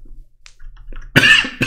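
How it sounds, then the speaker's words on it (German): A man coughs during a Minecraft session: two short, close, harsh coughs near the end after quiet background sounds. "Der Husten meldet sich."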